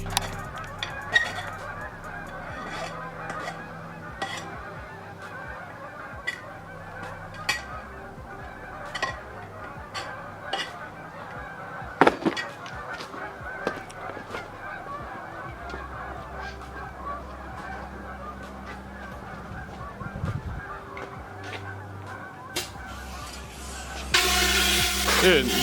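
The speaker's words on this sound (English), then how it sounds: "a couple hundred geese flew over" A flock of a couple hundred geese flying overhead, honking repeatedly at a distance, overlapping calls scattered throughout, with people talking underneath.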